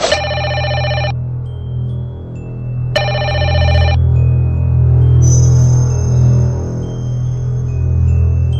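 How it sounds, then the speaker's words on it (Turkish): Telephone ringing in a horror-comedy sketch scene: two loud electronic ring bursts about two seconds apart, followed by a higher steady tone over a low background hum. "En olmadık anda telefon çalar."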